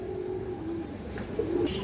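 Soft, low pigeon cooing from a male pigeon kept by a Bangladeshi fancier, a steady murmuring drone close by with a few faint chirps above it, no talk.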